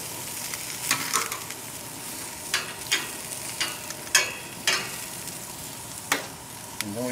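Vegetables including shallots and asparagus sizzle on a grill in a steady hiss, broken by sharp clicks and scrapes as pieces are placed and moved across the grate, with no one talking.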